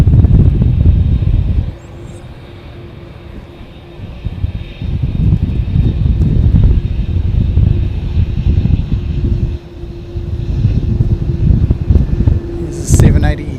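A Qantas airliner passing at Christchurch airport, its engine noise a loud low roar and rumble heavily mixed with gusty wind buffeting the microphone, surging and easing over the span, with a sharp crackle near the end.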